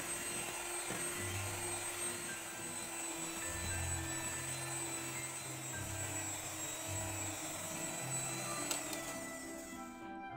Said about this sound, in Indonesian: Kemudian mixer dengan kecepatan tinggi sampai putih kental dan berjejak ya.